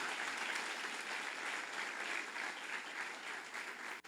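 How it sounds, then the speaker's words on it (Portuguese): Clapping from an audience at a church worship service for a youth campus event rings out steadily for about four seconds, fairly faint and distant, before cutting off abruptly at the end. "Dá uma salva de palmas para essa galera aí."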